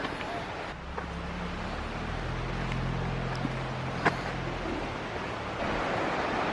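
Swift river water running over rocks at a state park, a broad steady rushing roar that fills the whole clip, constant and fairly loud with a low hum underneath and a couple of faint clicks.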